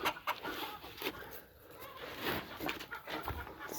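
Chickens on an off-grid homestead cluck softly and intermittently while pecking at mixed feed and protein pellets, with faint scattered rustling close by.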